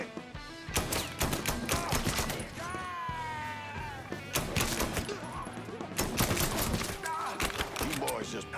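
Gunfire in the video game Mafia III, a dense fusillade of rapid shots and bursts sounding throughout, mixed with game music and tonal effects, while voices speak over the shooting.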